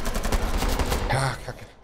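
Rapid bursts of video game gunfire, shots through a wall in a bomb round, crackle through the first second and a half, dense and close, then trail off into quiet.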